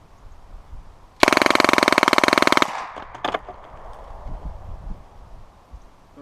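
S.W.D. M11/9 submachine gun with a wire folding stock and a 32-round magazine fires one loud, rapid full-auto burst of about a second and a half, close by. A few faint clatters follow, then quiet outdoor ambience.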